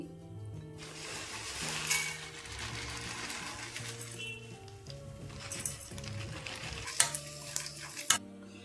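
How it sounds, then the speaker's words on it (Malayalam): Ragi flour roasting in a little ghee for halwa, stirred steadily in a pan, gives a continuous soft scraping and sizzle, with a couple of sharp utensil clinks near the end. "ഇത് നമുക്കൊന്ന് നെയ്യിലിട്ടൊന്ന് വറുത്തെടുക്കണേ. കുറച്ച് നെയ്യ് മതി."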